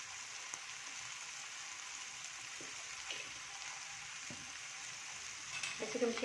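Onion and tomato fry in a pan with a soft, steady sizzle and occasional stirring scrapes, all fairly quiet.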